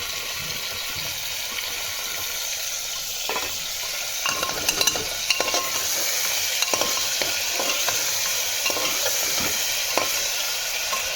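Ginger garlic paste frying in a pan, a steady close sizzle throughout with scattered sharper crackles and spatters joining from about four seconds on, no voices.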